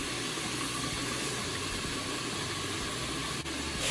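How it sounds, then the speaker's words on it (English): Chicken pieces frying slowly in a pan of oil over low heat give a steady, dense sizzle with soft crackle that holds near and constant for the whole stretch, with no voices over it. "You see? It's like steaming, frying now."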